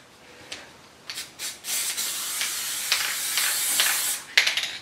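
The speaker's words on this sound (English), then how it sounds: "we're going to use the spray so that we don't get it wet" Spray can hisses in a few short bursts, then one long steady spray lasting a couple of seconds, followed by more quick puffs, close and fairly loud.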